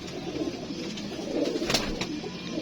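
Pigeons kept by a fancier coo in soft, repeated low calls, close by, over a steady background of rustling and ambient noise.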